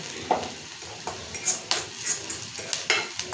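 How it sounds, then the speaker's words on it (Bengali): Green chilies fry briefly in a pan, a soft sizzle broken by intermittent stirring and utensil scrapes against the metal, fairly quiet and close. "অল্প একটুখানি সময় ভাজছি। দিয়ে দিলাম কাঁচামরিচ"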